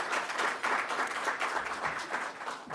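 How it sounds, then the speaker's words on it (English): An audience at a digital health forum applauds, a dense steady wash of clapping from a crowd that carries on evenly without a break and without talk. "So applause again."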